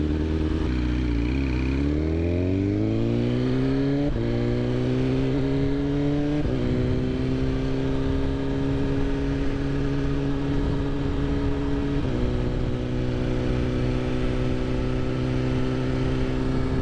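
A 2020 BMW S1000RR motorcycle engine drones steadily while riding on a hot day, rising in pitch through the first seconds with gear changes stepping the tone, loud and constant under wind noise.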